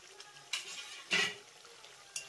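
A spoon scrapes and clinks in a pan as fried potatoes are stirred into a cooking spice mix for a vegetarian chana dal dish, a few sharp metallic knocks over a faint sizzle.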